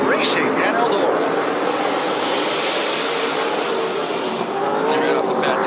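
Race cars roar around the Eldora Speedway dirt oval at the start of the 2023 SRX Series main event, a loud continuous engine drone under a commentator's voice.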